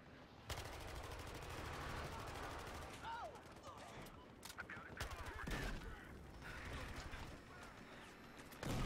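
Bursts of heavy machine gun fire in the video game Battlefield Hardline, rapid sharp cracks mixed with other gunfire and game noise in a busy, fairly quiet multiplayer scene.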